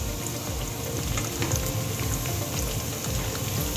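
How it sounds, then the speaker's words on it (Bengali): Chicken pieces fry in a pan over medium heat, giving a continuous, dense crackling sizzle with scattered pops throughout and no voices. "এখন এগুলোকে আমি ভালোভাবে চুলাটাকে মিডিয়াম হিটে রেখে ফ্রাই করে নিচ্ছি।"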